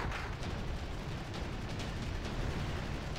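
Gunfire from a T-80 tank in the Wargame: European Escalation strategy game, a dense, continuous rumble of distant booms and blasts without clear individual shots, heard alone.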